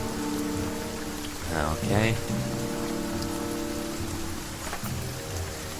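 Steady rain pours in the video game The Banner Saga 2, a dense constant hiss with a tonal music bed underneath, while a voice briefly speaks over it.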